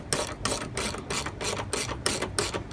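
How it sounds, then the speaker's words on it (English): A 13mm ratchet spanner tightens a clamp that compresses a canopy onto a vehicle, making rhythmic, evenly spaced clicking strokes, close and steady throughout, with no talking. "Then we grab our 13mm spanner or ratchet spanner."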